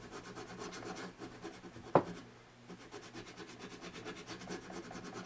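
A diamond grit file rasps steadily across a guitar fret in a quick, even back-and-forth rhythm, close and clear, with one sharp knock partway through and no talking.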